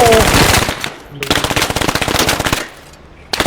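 Automatic weapon fire in the video game Squad, loud close bursts of rapid shots, one long burst, a brief pause, then another sustained string of rounds before a short break and a final shot, with a faint voice behind.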